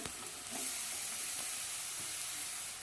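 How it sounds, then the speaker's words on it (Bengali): Onions frying in oil in a pan while a mutton curry is prepared, giving a steady close sizzle with a few faint stirring scrapes throughout. "পেঁয়াজটা নরম হয়ে গেছে তাও একটু ভেজে নিলাম আবার লাল লাল করে ভেজে নিলাম"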